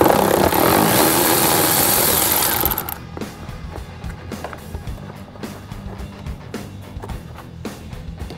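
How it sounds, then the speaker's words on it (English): An impact or power tool removing 10 mm radiator shroud bolts on a ZR2 Blazer S10, a loud sustained buzzing rattle for about three seconds, then quieter clicks and clanks of bolts and tools. "go ahead and get these bolts off"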